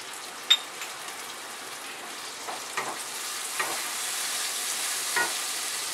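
Tomato, onion, ginger-garlic and turmeric masala frying in a pan for a spicy potato bhaji, a soft continuous sizzle broken by a sharp clink near the start and a few brief scraping stirs, with no talking.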